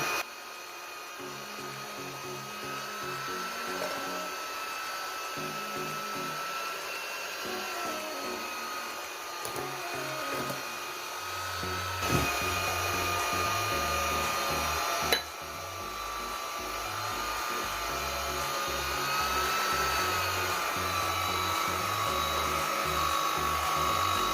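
An electric hand mixer whirs steadily as it beats flour and baking powder into batter for a fresh strawberry cake, a loud continuous motor drone with brief shifts in pitch as the beaters move through the bowl.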